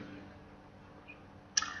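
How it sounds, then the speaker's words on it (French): A computer mouse's middle button gives a quick pair of soft clicks near the end, after near silence, with no talk. "j'appuie sur le bouton du milieu de la souris et je fais glisser"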